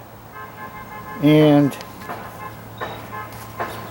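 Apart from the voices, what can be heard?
school buses honking horns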